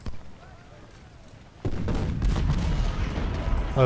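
Rumbling massed artillery and rifle fire in the Civil War battle game Ultimate General: Civil War, starting faint and distant, then swelling at about a second and a half into a dense, continuous barrage of booms and crackling volleys.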